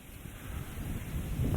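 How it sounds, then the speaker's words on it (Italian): Wind blows along the casoni trail in Valle Vecchia near Caorle on the northern Adriatic coast. It is a steady, low, buffeting rumble against the microphone that slowly builds louder, with no voices. "il fruscio del vento"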